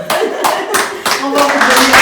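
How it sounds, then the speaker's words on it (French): A studio audience clapping for a woman caring for her grandchild, a short loud round of applause that builds, with voices talking over it. "On va applaudir pour elle."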